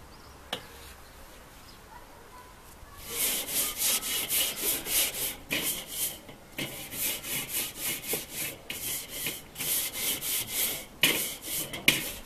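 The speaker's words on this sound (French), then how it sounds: "Donc là je vais nettoyer la grille." A metal brush scrubbing a barbecue grill grate to clear old residue: repeated rhythmic back-and-forth rasping strokes, close and fairly loud, after a short quiet start, with no speech.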